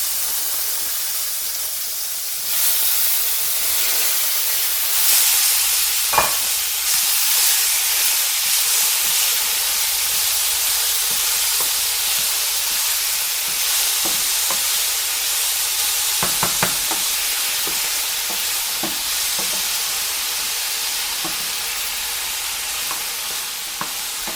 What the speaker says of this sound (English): oh, the hot oil's a little bit too hot.